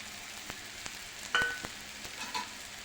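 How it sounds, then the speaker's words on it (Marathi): A spice mixture sautés in oil in a pan with a quiet, steady sizzle. A few light taps and scrapes from a stirring utensil sound close by, with one brief metallic clink. "सर्व मिश्रण छान असं परतून घेऊ"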